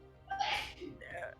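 A single short sneeze comes through faintly over an online tabletop roleplaying game session, a quick sharp burst followed by a softer trailing exhale.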